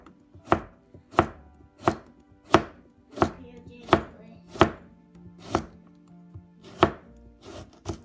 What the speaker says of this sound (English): Now we slice it.